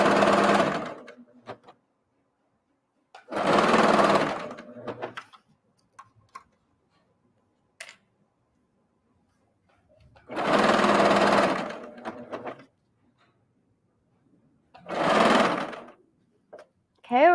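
A serger stitches two different types of fabric together while upcycling, running in four loud, fast-whirring bursts separated by quiet gaps filled with soft handling clicks.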